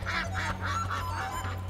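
A flock of Chinese ducks is driven along with a bamboo stick, giving a steady series of nasal quacks and honks, fairly faint and a little distant, with no talking.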